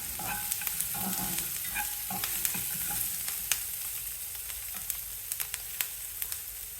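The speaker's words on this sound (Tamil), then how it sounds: "ஒரு 10-12 முந்திரி பருப்பையும் சேர்த்து வதக்கணும்." Ten to twelve cashew nuts sauté in a pan over medium flame with a soft, even sizzle, punctuated by scattered light ticks and clicks from stirring.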